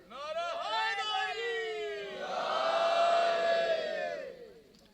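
A crowd raising a slogan together at a religious celebration gathering, a loud massed shout of many voices rising and sustained for several seconds, swelling midway before fading.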